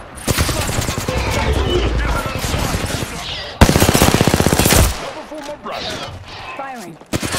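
Rapid automatic gunfire from Apex Legends gameplay, a dense burst of shots around the middle louder than the rest, with game sounds and a voice talking before and after.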